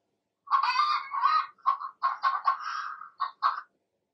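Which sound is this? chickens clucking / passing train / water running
chickens clucking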